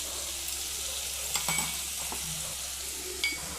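Butter and white oil heat in a wok for paneer butter masala, giving a soft steady sizzle with a few light stirring clinks and scrapes close by, no voices.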